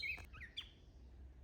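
Small bird chirping along a Catskills hiking trail near Kaaterskill Falls, a few short bright tweets in the first half second, faint and somewhat distant over quiet outdoor ambience.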